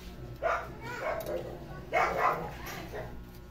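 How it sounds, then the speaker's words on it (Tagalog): A neighbour's dog barks a few times in separated bursts, somewhat distant, with background noise around it. "Ingay talaga ng aso guys sa kapitbahay namin."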